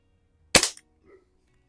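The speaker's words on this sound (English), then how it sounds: "that one's kicking them out at like 350 feet per second, which is pretty darn good for a little Springer BB gun" An early Crosman M1 carbine spring-piston BB gun from about 1967–68, with a wooden stock, fires one sharp, loud, close shot. A brief mechanical rattle follows, then a faint click a moment later. No one speaks.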